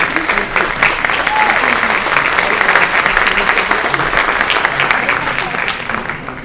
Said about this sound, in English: Would all of you please stand so we can give you a round of applause